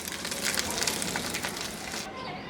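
Beaten eggs broken into pieces fry in oil in a wok, a dense, close crackling sizzle running continuously for about two seconds before it drops away abruptly.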